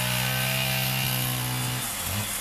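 Workers hewing red rosewood logs to remove the heartwood, heard as a loud, continuous droning tool cutting into the wood. The tone shifts and drops near the end, and no one speaks.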